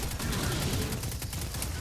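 Rapid gunfire from weapons in the video game Destiny 2, a dense, continuous burst of shots filling the whole short stretch, loud and close with no talking over it.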